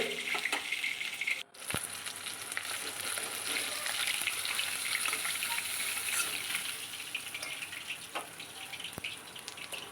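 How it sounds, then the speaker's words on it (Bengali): Pomfret sea fish pieces fry in hot oil, a steady close sizzling hiss with faint clinks and brief bumps, no voices heard. "মিডিয়াম করে ভেজে নিলাম মাছগুলো।"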